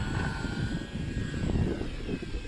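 A Dynam Waco RC model biplane flies overhead, its motor and propeller giving a continuous buzzing drone that swells and fades slightly as it passes, with no talk.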